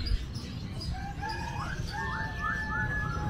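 Caged birds at a busy Indonesian animal market chirp and whistle in clear, rising and falling calls over a constant low murmur of market noise.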